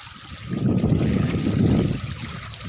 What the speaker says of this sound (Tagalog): Lakas ng tubig guys, lakas ng pasok.